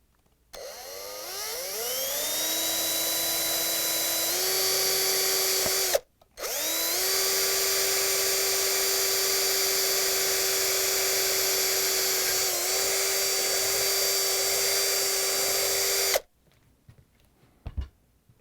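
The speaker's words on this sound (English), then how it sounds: "we're going to use the power drill with a drill bit just a bit larger than the cotter pin" A power drill whines steadily at close range drilling out a cotter pin on a Frigidaire/Electrolux rear caster wheel axle, briefly stops and restarts, then runs for a long stretch before cutting off, followed by faint clatter.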